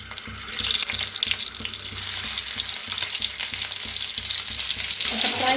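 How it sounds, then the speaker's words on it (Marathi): Eggs are dropped into hot oil in a kadhai and fry with a loud, rushing hiss close by, a steady watery crackle with faint stirring knocks. "तर आता त्याच्यात अंडी सोडूया"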